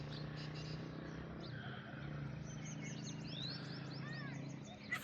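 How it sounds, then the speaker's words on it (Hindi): Birds chirping at an organic farm in the morning above a river valley, scattered quick calls and tweets at moderate distance over a soft insect-like drone and low steady background hum. "फार्म में परिंदे जाग रहे हैं"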